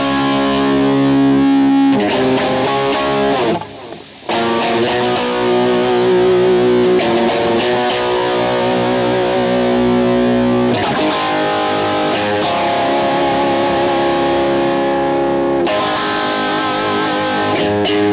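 An electric guitar plays through the built-in drive effects of a Kemper profiler, loud distorted chords and riffs sustaining with a short pause early on, heard up front with no talking.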